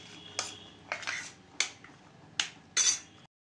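A spoon clinks sharply against a bowl while mixing spices such as cardamom powder, turmeric and salt, giving five distinct, close metallic taps spread irregularly over a few seconds.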